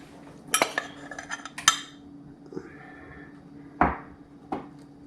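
Metal utensils clink and scrape against a pan while flour is worked into melted butter, giving a few sharp knocks and quieter stirring scrapes between them.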